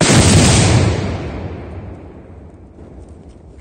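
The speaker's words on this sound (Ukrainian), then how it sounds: "Постріл." A single loud artillery shot fired at enemy positions in Serebrianka booms at the start, then decays into a long fading rumble that trails off into quiet.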